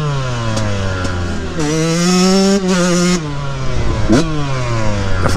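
Yamaha YZ144 dirt bike ridden hard at full throttle, its two-stroke engine revving up and down through the gears with a loud, close, continuous buzzing whine and brief dips between shifts.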